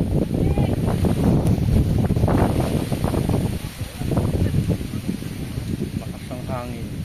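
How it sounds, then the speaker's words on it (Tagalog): Strong wind rumbles against the microphone beside a river in Oriental Mindoro, Philippines, a loud continuous roar that carries brief snatches of nearby voices. "Lakas ng hangin."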